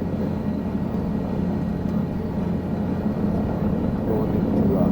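Cabin rumble of a helicopter in flight on a tour over Brazilian beaches, a steady loud low drone with engine hum throughout and occasional faint talk beneath.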